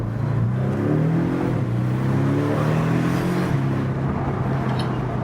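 A Porsche 718 Boxster engine accelerates with a steady, fairly loud droning note that climbs in pitch, heard from inside the car over road and wind noise.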